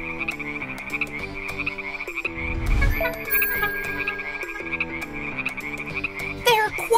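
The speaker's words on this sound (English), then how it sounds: "measure the sounds of the frogs croaking" A chorus of frogs croaking continuously, rhythmic and layered, with a high-pitched trilling call running steadily underneath and a brief low rumble midway.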